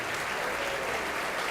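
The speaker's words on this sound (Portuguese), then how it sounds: "vamos dar para esta palavra a melhor salva de palmas que você já deu em toda a sua vida" A congregation claps in steady, dense applause at a church service, a continuous even roar of hands filling the whole moment.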